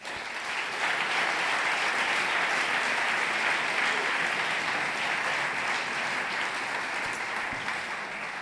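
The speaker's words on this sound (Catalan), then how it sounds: "Un fort aplaudiment per ell." Sustained applause from an audience at an awards ceremony as the winner is called to the stage, thick and steady clapping that holds at full strength for several seconds.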